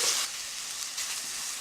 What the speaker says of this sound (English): Curry powder is in. You stir it constantly.